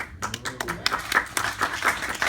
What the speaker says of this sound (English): I wanted you to applaud there.